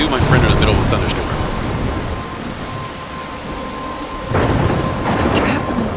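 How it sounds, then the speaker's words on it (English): A thunderstorm rages in the video game Life is Strange: heavy, loud rain roars continuously, with rolling thunder building at the start and swelling again near the end. A voice talks over the storm. "You, my friend, are in the middle of a thunderstorm."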